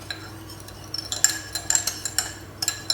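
A utensil stirs red wine vinegar and caster sugar in a bowl, making a run of light clinks and scrapes in an irregular rhythm, close and fairly clear, with no speech.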